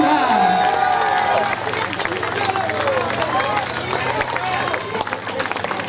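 At a costume parade on a podium in Chanaz, an audience applauds a costumed participant with lively crowd clapping, mixed with cheering, babble and voices talking over it, busy and loud throughout.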